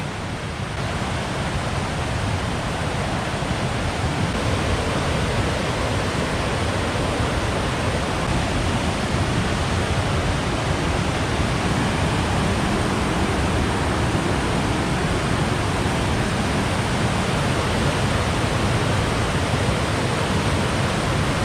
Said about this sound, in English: I never could resist a raging creek.